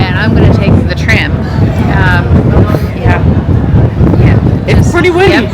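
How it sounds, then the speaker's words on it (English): Steady wind roars across the microphone at a cruise ship pier in Nassau, a continuous low rumble running loud throughout while people talk over it. "It's pretty windy."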